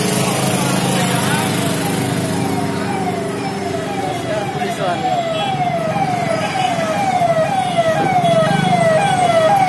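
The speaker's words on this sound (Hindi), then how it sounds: "ये पुलिस का गाड़ी जा रहा है दोस्तों" A police car siren wails in repeating downward sweeps as the vehicle moves through jammed night traffic in Ambikapur city, Chhattisgarh, loud and continuous over engine noise, with someone talking throughout.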